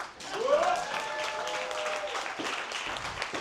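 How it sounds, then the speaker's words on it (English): Live audience at a sovereign-citizen event in Austin clapping for a few seconds, a steady broadband patter of many hands with a whoop or whistle near the start and voices mixed in. "But y'all better give a clap."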